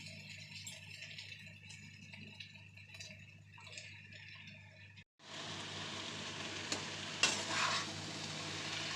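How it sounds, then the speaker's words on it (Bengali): Potato and cabbage mixed with spices, prawns, tomato, onion and garlic in a pan give rattling scrapes and clatter at first, then a brief gap before a louder steady sizzle with occasional sharp stirring knocks. "আলু বাঁধাকপি সব একসঙ্গে আমি মিশিয়ে নিচ্ছি, ভালো করে মশলার সঙ্গে কষিয়ে নেব।"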